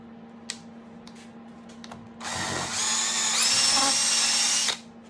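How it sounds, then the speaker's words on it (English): A hammer drill fitted with a bearing spins up on a piston workpiece, running loud and steady for about two and a half seconds after some light handling clicks, then stopping abruptly. "is a hammer drill with a bearing on it"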